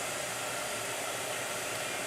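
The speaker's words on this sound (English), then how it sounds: "Blow dryer." A blow dryer runs steadily with a constant, loud broadband whoosh, heard alone with no talking.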